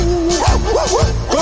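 Dogs on a farm give a few barks and yips in quick succession over a steady music backing, close and fairly loud.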